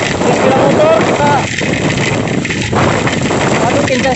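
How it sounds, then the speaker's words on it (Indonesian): Strong wind roars across the microphone while riding a motorbike over the JMP bridge in Ambon during rain, loud continuous buffeting with someone talking over it. "Anginnya sangat kencang."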